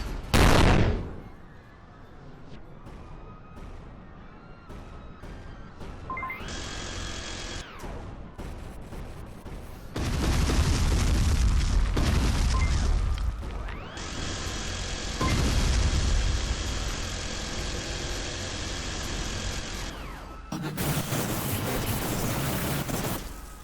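Bomb blasts and weapon fire in the VR game Monster: Titan's Playground: loud booming bursts that come and go across the stretch, some long roaring blasts layered with electronic game tones and no speech.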